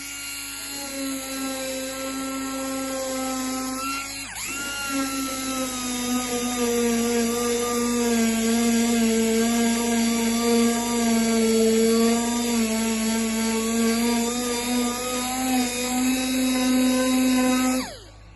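A small power sander works over a car door on a Hunter GLS restoration, giving a loud, steady high-pitched whine that briefly dips around a third of the way in and then continues until it stops at the end.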